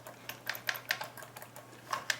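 Big keys on a Logitech G13 gaming keypad being pressed: about eight sharp clicks in an uneven rhythm, close and fairly quiet over a low steady hum, no talking.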